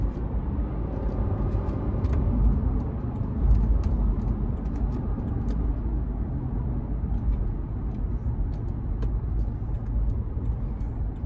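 A 2014 Lexus GX 460 with 115,000 miles and its 4.6 V8 heard from the cabin while driving, a steady low engine and road drone that swells slightly around gear changes, with no talking.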